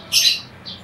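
A bird held in the hand during training gives a short, sharp squawk close by, then a fainter second chirp a moment later, with no talk over it.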